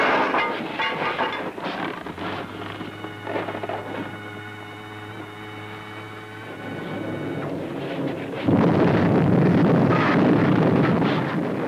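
A train rumbles along railway tracks in the Thunderbirds series, with a sustained tonal whine over the low rolling noise in the middle before a louder, rougher rush of track noise and wind takes over.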